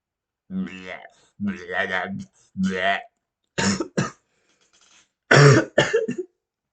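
A person coughs and clears their throat several times in short, harsh bursts, with brief spoken phrases in between.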